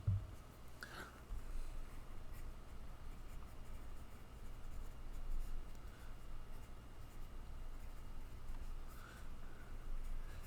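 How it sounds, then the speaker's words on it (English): A pen scratches across paper while someone writes notes by hand, a faint, steady, continuous scraping over a low room hum, close to the microphone and without speech. "So let's write that down."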